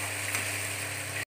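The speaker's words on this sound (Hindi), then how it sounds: "हींग डाल देंगे, ये भून रहे हैं" Asafoetida and tomatoes fry in a pan for a potato curry, a close, steady sizzle that lasts about a second before cutting off, with no voices.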